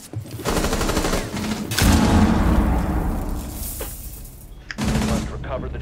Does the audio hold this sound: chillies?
no